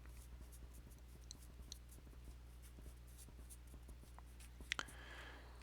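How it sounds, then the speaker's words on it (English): A pen scratches across paper in a few short, quiet strokes, faint and close, while a steady low hum fills the background. "I'll just write independent."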